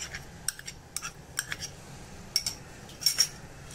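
A spoon stirs cheese into a thickened mixture in a pan for a cheesy dip, making repeated short scraping clinks in an uneven rhythm over quiet background noise.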